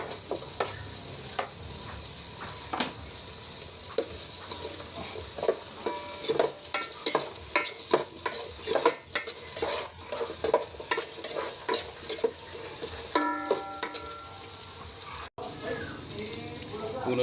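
Onion sautés in a pan for miso sinigang with fish, giving a running sizzle under frequent close scrapes and clinks of stirring, with a brief voice in the background.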